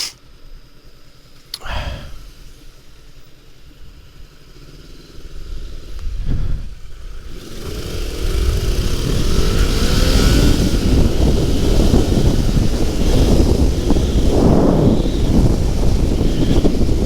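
A 2014 Honda CBR500R motorcycle being ridden in a race, quiet at first, then its engine rises into a loud, sustained roar with heavy wind rush and shifting pitch.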